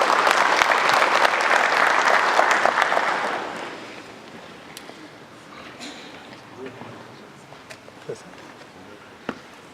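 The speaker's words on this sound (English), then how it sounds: "give him a big round of applause" Audience applause at an ICT facility presentation, loud and dense for a few seconds before fading out into quiet room sounds with scattered claps.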